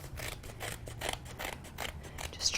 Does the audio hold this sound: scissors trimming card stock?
yes